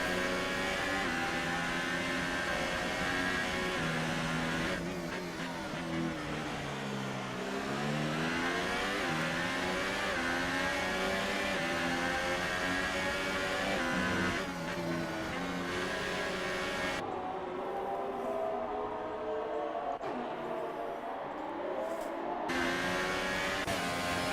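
Race cars in the F1 2018 video game at the Austrian circuit, engines droning and revving continuously with rising and falling pitch sweeps as cars accelerate and shift, loud and steady throughout with no talk.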